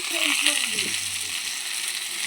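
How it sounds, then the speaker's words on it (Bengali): Green banana, potato and chopped tomato frying in a pan for a fish curry, a continuous hiss and sizzle with a brief tonal clatter early on, moderately loud and near, with no speech. "কাঁচকলাটা আর আলুটা একটু ভাজা হয়ে গেছে, টমেটো কুচিটা দিয়ে দিলাম।"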